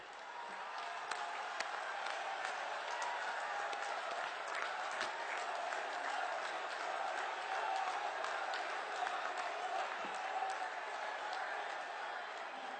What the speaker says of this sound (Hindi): अपने स्थान पर खड़े होकर प्रधानमंत्री जी की जोरदार तालियों के साथ स्वागत